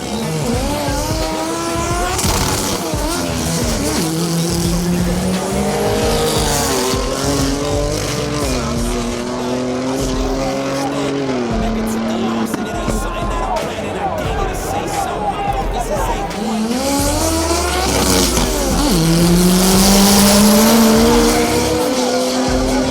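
All-wheel-drive cars, a Tesla among them, drag race at Vernamfield in Jamaica. Loud engines roar and tires screech, pitch rising and falling as the cars launch and pass, with crowd chatter and voices underneath.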